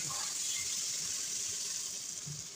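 Water streams steadily into a cooking pot of pork with potatoes, a soft continuous gushing pour heard up close.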